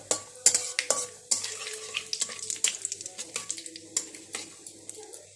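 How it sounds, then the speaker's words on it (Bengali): Nigella seeds and radhuni being stirred in hot oil in a pan, a spoon scraping and knocking the pan in quick irregular strokes over a soft continuous sizzle, close and fairly loud. "একটু কালো জিরে দিয়ে দিলাম একটু রাঁধুনি দিয়ে দিলাম এটাকে একটু নেড়ে চেড়ে"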